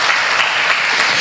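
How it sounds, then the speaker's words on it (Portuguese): A church congregation claps loudly and steadily during a celebration service, a brief dense wash of applause close at hand with no pauses. "Dá um aplauso ao Senhor bem forte."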